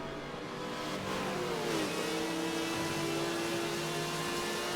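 Race cars, including an Aston Martin and a Mini, roar around the Mugello circuit in Forza: a loud, continuous engine drone with rising revs and a gear change, heard alone without talk.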